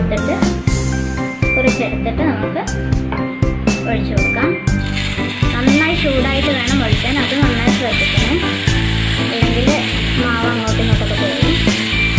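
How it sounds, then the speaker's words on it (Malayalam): Oil sizzles on a hot dosa pan with a steady, loud hiss that swells noticeably partway through, while a person talks over it. "ചട്ടി നന്നായി ചൂടാവണം ഇതിപ്പോൾ നന്നായി ചൂടായിട്ടുണ്ട് ഇതിലോട്ട് നമ്മൾക്ക് കൊടുത്ത് എണ്ണ തേച്ച് കൊടുക്കാം"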